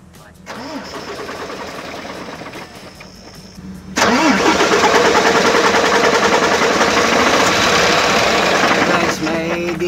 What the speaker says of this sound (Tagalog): paikutin mo nga yung makina